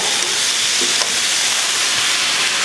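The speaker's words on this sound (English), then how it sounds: "Everything is nicely sizzling" Steady, loud sizzling of chicken and bacon frying in a hot pan, a constant crackling hiss with no talking.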